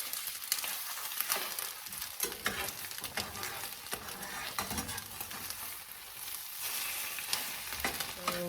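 Eggs being stirred and scrambled in a small frying pan, a steady close sizzle with scraping utensil strokes throughout, no talking.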